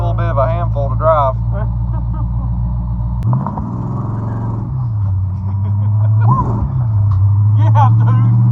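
A supercharged 1955 Chevy drives with a deep, heavy engine rumble close inside the car, the pitch shifting as it revs and settles, while people talk over it.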